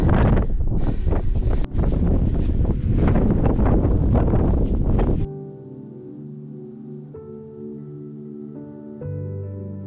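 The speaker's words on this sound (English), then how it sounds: "The wind has definitely picked up" Strong wind buffets the microphone on an exposed fell walk in the Lake District, a loud, steady roar for about five seconds that then drops away to a quieter background with a faint tonal hum.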